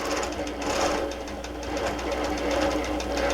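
Sewing machine stitching a flying geese quilt block, a close, steady mechanical whir with rapid rhythmic needle knocking that runs unbroken for a few seconds.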